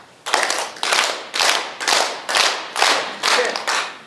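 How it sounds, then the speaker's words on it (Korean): A congregation at a church revival meeting claps hands together in unison, about seven strong, evenly spaced bursts of clapping close by with no talk. "박수 준비합니다."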